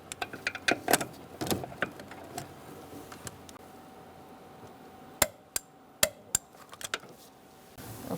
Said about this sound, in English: now you're going to torque this to 24 foot-pounds.